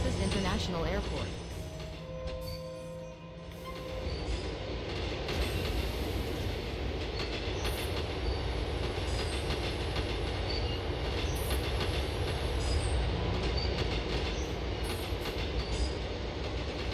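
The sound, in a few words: subway train running, from video game GTA IV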